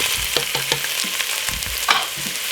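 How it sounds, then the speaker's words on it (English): Potato, white onion, garlic and spring onion frying in a pot as a spoon stirs them, a steady sizzle under irregular scraping and clunking strokes against the pot. "Give it a nice lovely stir."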